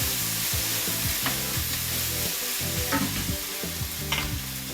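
Taiwanese pork chops fry and caramelize in a pan with star anise, a steady close sizzle broken by repeated scraping and stirring knocks against the pan.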